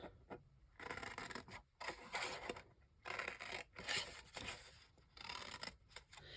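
Scissors snip through a paper scrap during a Valentine's Day papercraft project, giving several close, quiet bursts of cutting and rustling separated by brief pauses.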